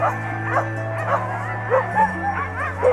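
Huskies gathered for a dog sledding race in the Australian alps yip, whimper and bark in short repeated bursts close by, over a low steady hum.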